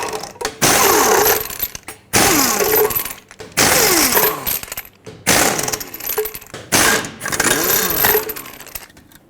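Power impact wrench spinning off lug nuts one after another on a 1996-2002 Toyota 4Runner wheel, five loud buzzing bursts separated by short pauses, close up and with no talking.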